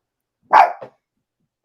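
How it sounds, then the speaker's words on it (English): A single sharp bark from a dog in a quiet indoor room, close and fairly loud with a short trailing grunt, followed by the start of another bark after a pause. "never apologize for a dog. She heard something."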